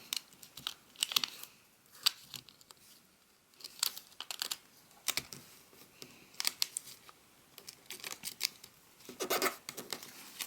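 Origami paper is folded by hand, giving crisp crinkles, creases and sharp papery snaps in irregular bursts across the span, close and fairly clear with quiet gaps between.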